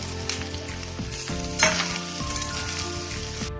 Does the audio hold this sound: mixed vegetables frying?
yes